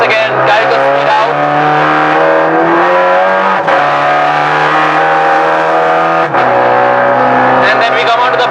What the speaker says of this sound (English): Once again down into second gear, we can ride the curbs. Once again carry the speed out.